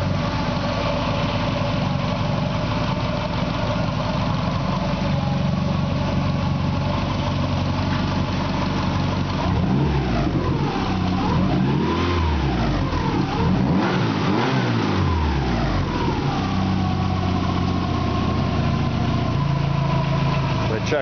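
A Subaru engine running on a test stand, a loud steady idle broken by several rising and falling revs in the middle before it settles back to idle, close and alone with no talking.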